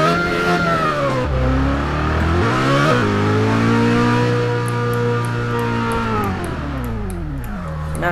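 A car engine in the driving game Test Drive Unlimited 2 revs loud and close, its pitch rising and falling through gear changes, then holding a steady drone before easing off.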